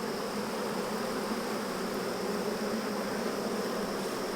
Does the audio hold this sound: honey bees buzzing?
yes